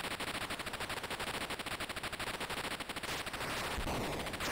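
Rapid machine-gun fire from an older Atari flight simulator game, rattling bursts repeating in a fast, even rhythm for about three seconds before giving way to a broader synthesized roar.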